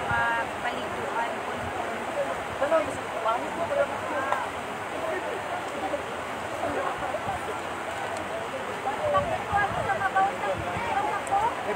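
River water rushes steadily in Jasaan on Easter, a continuous broadband wash of flowing water with faint voices of people nearby underneath.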